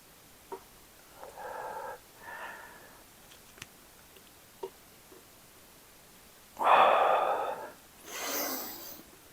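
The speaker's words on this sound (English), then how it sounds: "In through the nose, out through the mouth." Deep, steady breathing during a hip mobility exercise session, with a few soft breaths followed by two louder, fuller exhales close to the microphone. No voices are heard.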